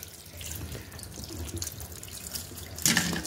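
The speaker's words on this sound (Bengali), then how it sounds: "জবা ফুলটি ধুয়ে নিচ্ছি" Hibiscus flowers rinsed under a running kitchen tap, a steady splashing stream of water into a sink with small drips and a brief louder gush near the end, no talking.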